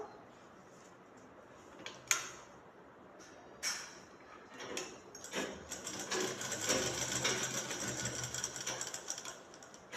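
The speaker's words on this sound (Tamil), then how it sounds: "காலர் பட்டி ஓரமாக தைச்சிக்கலாம் ஏற்கனவே தைச்சு தையல் மேலே தைக்கலாம்" Sewing machine stitching along the edge of a shirt collar band, its motor whirring in short bursts at first and then running steadily and fairly close, with no talk.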